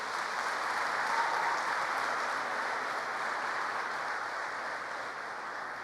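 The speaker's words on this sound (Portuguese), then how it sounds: "Dê um aplauso ao Senhor." A church congregation applauds during a Sunday celebration service, a broad, even wash of many hands clapping that holds steady and full for several seconds without pause.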